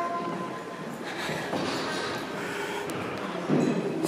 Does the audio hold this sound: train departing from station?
yes